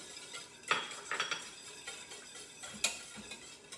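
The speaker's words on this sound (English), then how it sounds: "So I'm going to just stir that in." A whisk stirs egg yolks into a reduced-sugar caramel pie filling, with light metallic clinks and taps against a bowl and a soft swishing underneath, close and moderately quiet.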